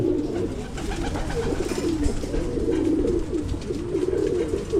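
Racing pigeons coo continuously in a low, soft, rolling murmur, several birds overlapping close by in a loft with a steady background hum.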